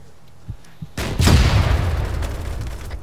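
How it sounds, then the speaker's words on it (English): Gunfire in a military shooter video game: a couple of faint pops, then a sudden loud close blast followed by a rumbling roll of shots and echoes that slowly fades. "Who the hell is shooting at us?"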